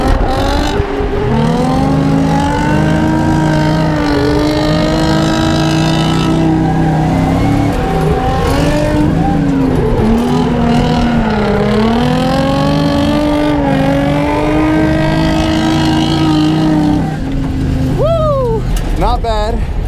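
An LS1-swapped Nissan 240SX drifts in tandem, its V8 engine droning loud and continuous with rising and falling revs throughout, alongside another car close by; voices talk over the engine noise.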